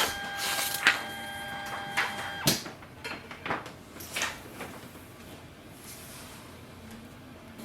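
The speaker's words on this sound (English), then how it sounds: "Once you hear the sound printhead moving" Brother MFC-J4535DW inkjet printer with its printhead moving gives off mechanical clicks, soft thuds and sliding whirs over a low hum, in irregular short bursts at close range.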